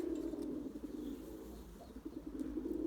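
Several white pigeons in a loft coo softly and repeatedly, low rhythmic throaty calls close by at a fairly quiet level, with faint chirps and rustling in the background.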